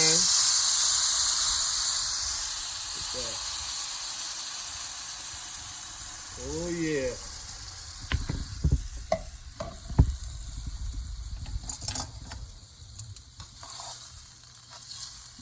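Catfish sizzles and hisses as it fries in a hot pan, with clattering stirring and scraping later on; a person speaks briefly.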